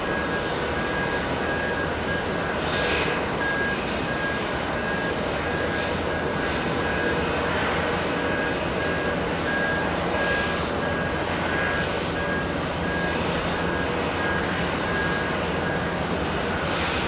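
An Etihad Airbus A380 airliner at JFK airport, its engines giving a steady, loud, broadband roar that holds throughout without a break.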